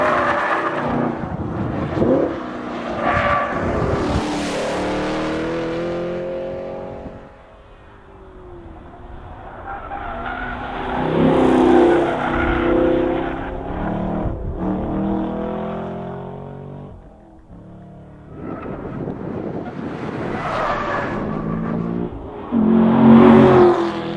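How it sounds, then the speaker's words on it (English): A 2018 Chevrolet Camaro SS 1LE V8 driven hard on a track lap, engine revving loudly and rising through the gears, dropping off on lifts and braking before surging again. "let's take a look at Colin wrestling the Camaro to the best time he can possibly set"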